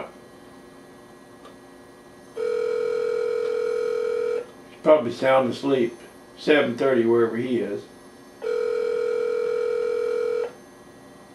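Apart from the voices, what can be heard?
telephone dialing and ringing on a call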